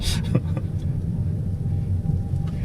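Kia Niro EV electric SUV rolling at low speed gives a soft, steady low hum and road rumble from inside the cabin, faint and continuous with a few light ticks early on.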